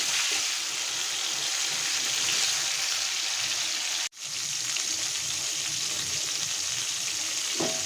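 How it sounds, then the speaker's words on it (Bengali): Pointed gourd (potol) fries in oil with salt, producing a dense, even hiss of sizzling that runs almost unbroken, with one brief gap midway. "হালকা লবণ দিয়ে দিচ্ছি পটলগুলোতে। একটু সোনালি রং করে ভেজে নেব।"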